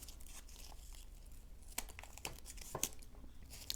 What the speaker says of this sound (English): I'm just going to run this tape all the way around